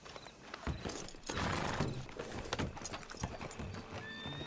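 Horse hooves in Red Dead Redemption 2 clop in a steady walking rhythm, close and clear, with a whinny mixed in.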